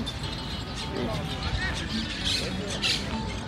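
White birds in a Barcelona park give a few sharp squawks over a continuous murmur of distant crowd chatter and outdoor noise.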